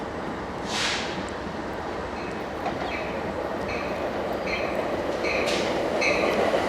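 A passenger train on the line at Fullerton rolls past in a steady, continuous rumble with faint wheel squeal and hiss, moderately near, no voices.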